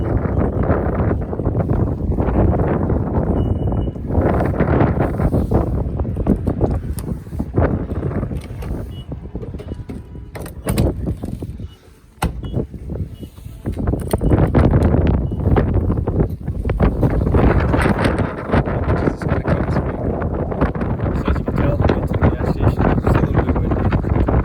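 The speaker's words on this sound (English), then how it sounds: "it's just starting to get windy" Wind blowing in snowy weather, loud buffeting gusts rumbling across a microphone almost continuously, with one brief lull midway.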